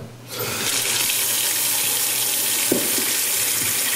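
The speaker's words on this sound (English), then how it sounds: "just in your sink, just get a couple bowls, run some warm water" Warm tap water gushes from a faucet into bowls set in a kitchen sink, a steady close hiss and splash that starts abruptly, with one small clunk partway through.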